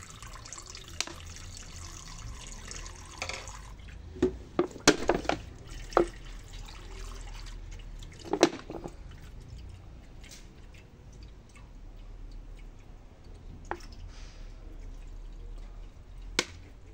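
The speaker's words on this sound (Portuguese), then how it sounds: "Vou só colocar o óleo agora," Oil is poured into a straight-stitch industrial sewing machine, a steady liquid trickle with scattered drips and a few louder clinks and splashes, fairly close and without talk.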